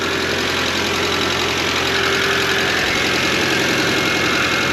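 A Toyota 4Runner engine idles steadily at close range, a continuous even rumble with no voices over it.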